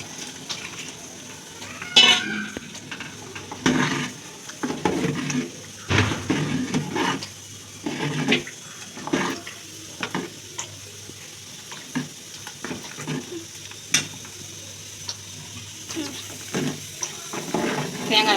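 Water is poured into a pot of white chickpea curry while it is stirred, giving irregular splashes and scraping bursts over a steady background sizzle, fairly close and moderately loud with no talk.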